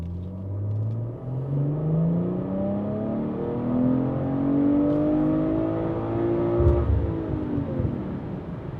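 A BMW B58 straight-six with a downpipe, OPF delete and tune accelerates hard through the gears, its pitch climbing in long sweeps with brief drops at shifts, a loud steady roar throughout.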